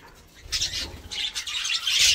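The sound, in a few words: birds calling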